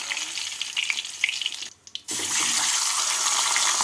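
Hilsa fish heads fry in hot oil in a wok, giving a steady close sizzle with crackles and spits that drops away briefly before the frying returns loud and continuous.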